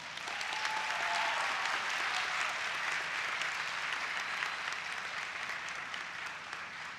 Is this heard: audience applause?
yes